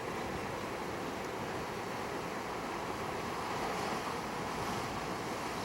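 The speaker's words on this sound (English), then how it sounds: "Here we have a black sand beach." Surf rolls onto a black sand beach near Hana, Maui, a continuous broad wash of breaking waves with wind noise, steady and fairly close throughout.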